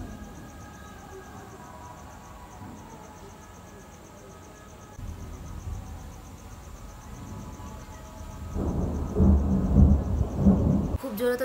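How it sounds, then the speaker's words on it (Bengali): Rain falls steadily at night, a soft continuous wash with insects trilling underneath, swelling into a louder, rumbling downpour toward the end. "আর এই বৃষ্টি কিন্তু ভালোই হচ্ছে, জানো তো।"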